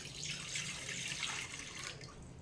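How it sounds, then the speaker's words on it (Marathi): A glass of water pours into a wok fitted with a steaming rack, a short soft splashing stream that runs steadily for a couple of seconds, faint and close. "यामध्ये एक ग्लासभर पाणी ओतायचं आहे"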